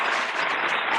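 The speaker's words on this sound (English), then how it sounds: "Let's give a wee round of applause there" A small studio audience claps for guest Gary Elliott on a Northern Irish music show, a short, even burst of applause, close and steady throughout.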